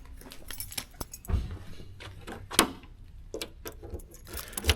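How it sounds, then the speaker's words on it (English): Car keys jangle and clink in irregular metallic bursts near a 1973 Oldsmobile Delta 88, fairly quiet, with no talking. "Get these keys out of here."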